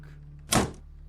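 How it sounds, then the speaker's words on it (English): A single heavy knock thuds against a door in a dark folk tale set in Kringa, one short dull blow standing alone over a steady low hum. "And of course, the knocking continued."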